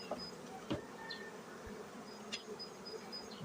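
Bees crawling on the outer frame of a spring hive, a steady low insect hum close by with a few sharper buzzing passes and light handling knocks, no talk.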